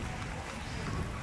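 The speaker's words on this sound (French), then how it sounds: "Il y a un peu de vent." Wind rushes steadily across the microphone with a broad, roaring hiss, like open water on a breezy day, on a sailboat at sea.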